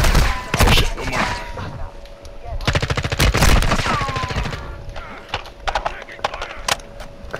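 Loud automatic gunfire in Modern Warfare II comes in sharp bursts and single cracks, some close and some further off, with people talking at times.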